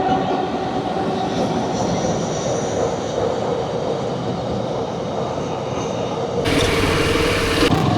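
A train rumbles past a railway gate on a road trip in Chhattisgarh, a steady loud rolling roar lasting throughout, growing brighter and noisier near the end as the cars go by.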